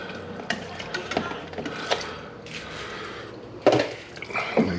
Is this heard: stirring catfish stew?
yes